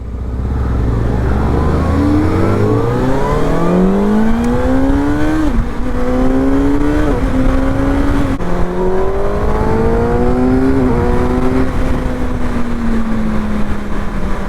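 A 600cc 6R sport motorcycle on its stock exhaust revs hard and close, its engine note climbing in repeated rising sweeps and then settling into a loud, sustained high drone, with no talk over it.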